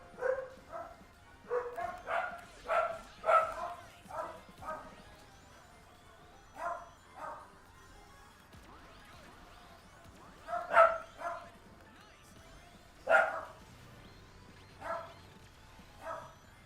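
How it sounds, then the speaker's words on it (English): Dogs barking in repeated bursts, a cluster of sharp close barks at the start followed by scattered single and double barks with quiet gaps between. "Yes, barking doggos."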